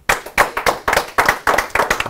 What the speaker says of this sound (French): vous allez tous applaudir